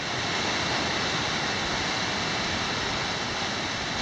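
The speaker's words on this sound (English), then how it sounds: "look at the water coming out of the hills" Snowmelt water pours down from the hills beside Gable Creek on a Sierra Nevada trail, a dense, steady rushing roar with no break and no voices.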